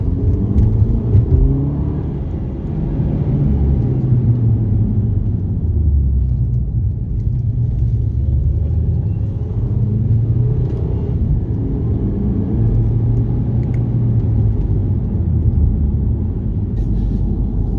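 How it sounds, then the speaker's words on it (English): Steady low engine rumble of a small car driving after intake-valve carbon cleaning, heard from inside, with gentle rises in pitch as it accelerates and shifts. "Such a good little car to drive."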